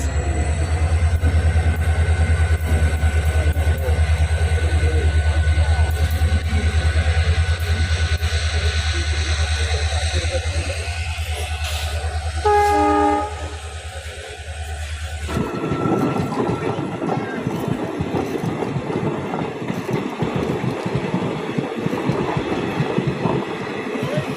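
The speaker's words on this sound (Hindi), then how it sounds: "कोल्हापुर गोंदिया महाराष्ट्र एक्सप्रेस।" Kolhapur–Gondia Maharashtra Express train passing nearby in open countryside beside sugarcane fields, a loud steady rumble with a brief horn-like tonal blast near the middle, then a rougher clattering roar as the cars go by, with no talk.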